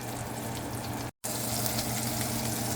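Filet mignon searing in a cast iron skillet, a dense continuous sizzle and hiss with a brief dropout partway through, close and steady with no talk.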